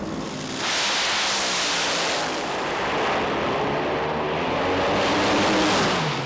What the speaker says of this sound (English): Both cars leave the starting line.